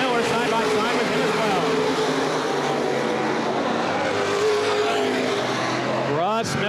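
Open-wheel modified race cars roar around Baer Field Speedway in the Gold Cup 60, their engines rising and falling as they pass under steady track announcing. A loud car sweeps close by near the end.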